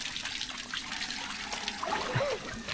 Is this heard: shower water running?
yes